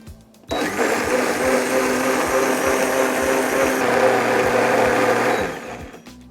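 A blender blending about 100 grams of roasted almonds with 300 grams of water starts abruptly and runs at a high, steady whirring roar for about five seconds before winding down, close and loud.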